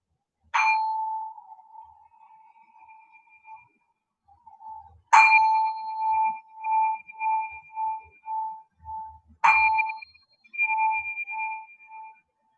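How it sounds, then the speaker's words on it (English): A meditation bell is struck three times with long pauses between strikes. Each clear, bright ring sustains and slowly fades while faint pulsing overtones linger in a quiet room. "As the sound of the bell fades,"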